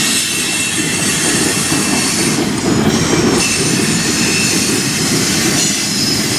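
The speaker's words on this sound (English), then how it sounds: "pretty long train though" A long CSX and Lake State Railway freight train, hauled by ES44AC-H and SD50 locomotives, rolls past close by with a continuous loud rumble, rhythmic wheel clatter and high metallic squealing from the wheels.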